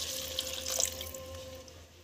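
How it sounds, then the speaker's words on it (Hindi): Water being poured from a cup into a pot of sautéed peas, potatoes and carrots, a soft steady splashing stream lasting about two seconds, fairly faint and alone. "तो देखिए हमने 1 कप पानी डाला है"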